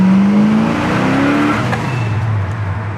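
A 1969 Chevelle accelerating hard, its engine note climbing steadily then dropping as it shifts and pulls again, heard loud from close by with no voices.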